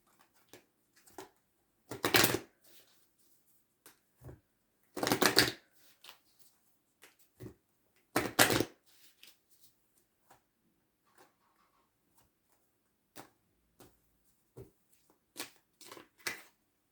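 Tarot cards are shuffled and pulled in a handful of brisk riffling bursts spaced several seconds apart, with soft scattered card flicks and handling noises in between, close and clear.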